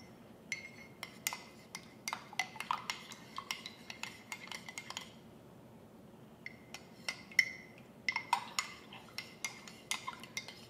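Spoon stirring Lion's Mane elixir into coffee in a cup, rapid light metallic clinks against the sides in two bursts separated by a short pause, close and fairly quiet.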